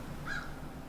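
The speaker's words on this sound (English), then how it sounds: "the crows are here" A single short caw from a crow in trees outside an open window, faint and distant, over a low steady background hum.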